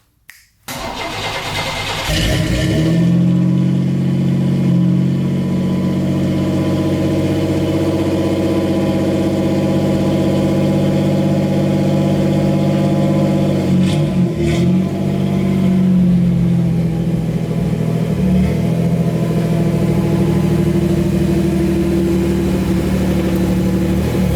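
A 2.8 litre engine in a muscle truck cranks and catches, then settles into a steady, loud, close running drone with a few blips of throttle partway through, no voices over it.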